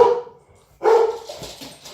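Dogs bark close and loud, with one sharp bark followed by a longer burst of barking that trails off into fainter yips.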